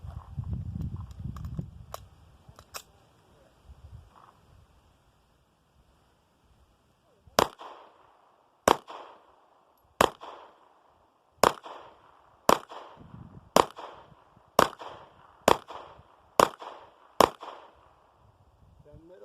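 Gunfire at an outdoor shooting range: a few faint distant pops, then a steady series of about ten sharp, evenly spaced shots, close and loud with no talk.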